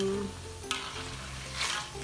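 Food sizzles in a hot wok while a utensil scrapes and stirs, with a sharp clatter partway through; short and close, no voices.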